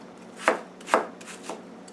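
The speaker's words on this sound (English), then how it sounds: "I may not use all this onion I chopped up." Knife chopping onion on a board, three crisp close taps at an even pace, the last one softer, with no talking.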